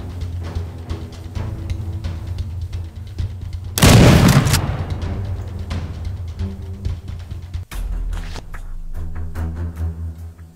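Explosive barrels blow up when shot in a 3D RPG game, a sudden loud blast with a burst of crackling debris amid a run of sharp clicks and thuds, followed by another low thump.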